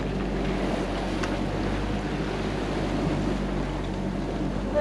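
A sailboat pounds through rough, turbulent water off Cape Breton, Nova Scotia, with a steady loud wash of waves and wind buffeting the microphone, continuous and close throughout.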